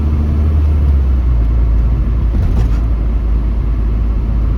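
Hot rod car engine idling outdoors in winter, a steady low rumble that holds close and loud throughout with no revving.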